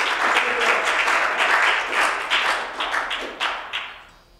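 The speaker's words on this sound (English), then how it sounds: "give a big round of applause to yourselves for being a part of a very philanthropic and altruistic cause" An audience at a songwriters' benefit concert for a warming center in Eugene claps together, a short burst of warm applause with a few distinct loud claps that fades away after about four seconds.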